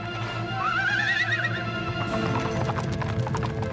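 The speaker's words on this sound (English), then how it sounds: "He's just a dumb horse." A horse whinnies loudly in an animated series scene, then hooves clip-clop steadily amid rolling cart noise.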